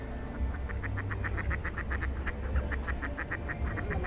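Ducks and geese gathered at the water's edge in a Manhattan park while being fed, quacking in a rapid, steady series of loud, close calls over a low outdoor rumble, with no talk.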